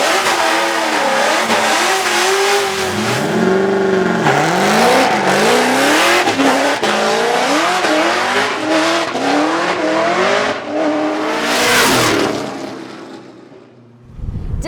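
Formula DRIFT drift car on a competition track bye run, engine revving hard and climbing through gears with rising and falling pitch sweeps, loud and continuous with tire squeal, fading near the end.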